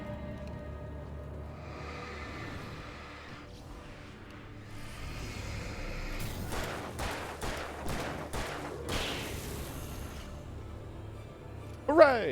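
Hunting rifle fire in Alan Wake Remastered on Xbox Series S, a run of sharp, evenly spaced shots in the middle, fairly faint, with game ambience and talk around them.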